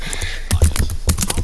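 Typing on a computer keyboard, close and loud, with a quick irregular patter of keystroke clicks.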